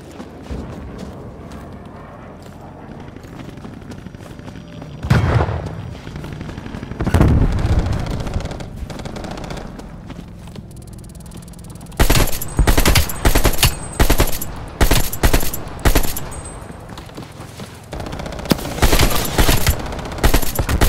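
Automatic gunfire in several rapid bursts: a couple of heavy blasts early on, then repeated loud rattling volleys that stand alone over a low rumbling background.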